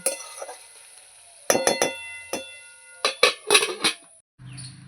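A metal lid settles onto a pot of chicken patty filling with a cluster of sharp clinks and rattles, several close metallic knocks in quick succession, then quiet kitchen background.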